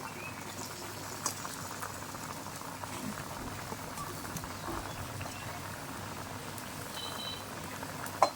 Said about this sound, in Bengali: আমাদের বলক উঠে গিয়েছে।